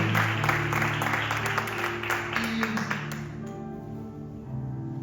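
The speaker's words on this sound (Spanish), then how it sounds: "Dale un aplauso al Espíritu Santo." A church congregation applauds with lively clapping over sustained musical tones, the clapping thinning out after about three seconds while the held notes continue.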